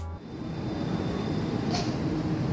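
Tegal Bahari passenger train of stainless steel New Generation coaches pulling out bound for Pasar Senen station, a steady close low rumble and rolling roar that holds constant throughout, with a brief hiss near the end.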